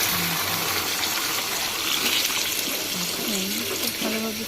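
Water gushes steadily into a pot of braised chicken or beef curry, a loud continuous pouring rush, while a voice talks faintly underneath.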